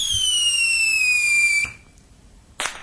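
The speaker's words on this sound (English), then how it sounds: "A singular firework celebrating the fact that Peter Bove in Hertfordshire has won the Mystery Voice." A single firework played as a radio sound effect: a long, bright descending whistle that cuts off after about a second and a half, followed by a short sharp burst a second later, loud and close.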